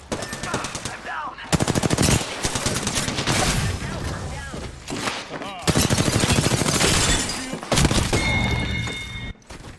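Bursts of automatic gunfire in an Apex Legends match come in heavy rapid volleys and separate shots, loud and close, broken by brief pauses, with voices faintly under the shooting.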